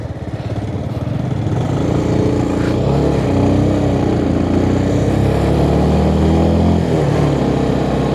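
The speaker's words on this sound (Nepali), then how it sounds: "बाइक पुरै हरर गरिरहेको छ" A motorcycle engine drones steadily and loudly throughout on a road trip from Kathmandu to Dang, with a rough rattling buzz and continuous low rumble, no speech over it.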